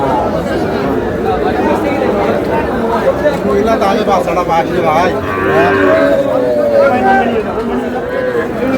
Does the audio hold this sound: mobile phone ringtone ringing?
no